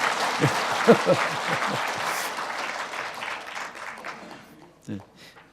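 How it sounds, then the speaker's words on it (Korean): An audience at a lecture breaks into applause, a burst of clapping that thins out and fades over a few seconds as a voice comes in over it. "공감하는 대목에서는 박수를 쳐라 이렇게 말씀하셨습니다"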